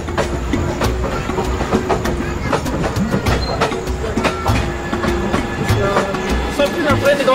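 A passenger train between Tanzania and Zambia rolls along the rails with rhythmic clickety-clack and rumbling, a close, steady ride with sharp periodic knocks from the wheels.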